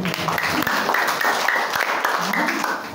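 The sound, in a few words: applause in church service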